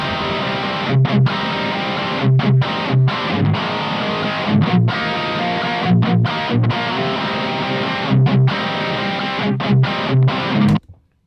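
Heavily distorted electric guitar through a 4x12 cabinet with Vintage 30 speakers plays a chugging rhythmic riff with short stabbing chords and abrupt stops, loud and thick, ending suddenly.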